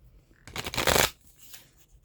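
A deck of Black Moon Astrology cards is shuffled once in a quick riffling burst, close and fairly loud, then fades to faint handling.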